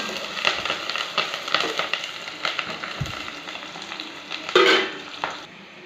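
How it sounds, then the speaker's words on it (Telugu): Onions sizzle steadily in hot oil. Repeated stirring scrapes and clicks of a utensil against the pan sound over the frying, with one louder clatter near the end. "ఆయిల్ కాగింది. ఇందులోకి ఎర్రగడ్డలు వేసుకుంటున్నాను."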